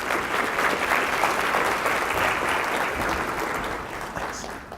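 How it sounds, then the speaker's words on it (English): An audience claps for keynote speaker Peter Doolittle at a teaching and learning conference, dense sustained applause from a large crowd that holds steady and begins to thin at the end. "Please give him a round of applause."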